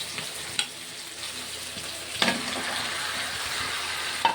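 Tomatoes fry in oil with ginger and garlic for an egg curry, hissing in a continuous low sizzle broken by a few sharp stirring knocks against the pan.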